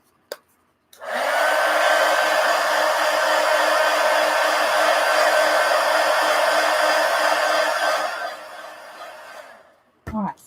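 A hair dryer blows on paint in a steady, loud whir for about seven seconds before switching off, with a brief click at either end.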